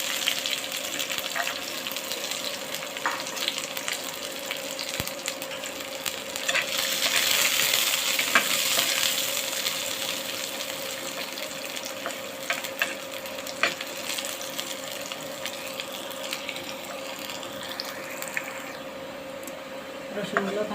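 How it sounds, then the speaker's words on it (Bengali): Garlic fries in oil in a pan with a continuous moderate crackling sizzle, punctuated by occasional light clinks and stirring, heard steadily over about twenty seconds. "রসুনগুলো ভাজা ভাজা হয়ে গেছে,"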